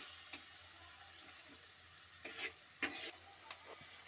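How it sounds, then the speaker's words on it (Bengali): Spices with chili powder sauté in a pan for a fish curry gravy, giving a low, steady sizzle broken by a few sharper scrapes and stirring knocks, close and fairly quiet. "এটাকে আমি কষিয়ে নিচ্ছি ভালো করে"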